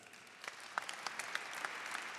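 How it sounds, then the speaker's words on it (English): Hall of Fame award ceremony audience applauding, a steady wash of clapping from many hands with a few sharper claps standing out, moderately distant and without talk. "Another round of applause"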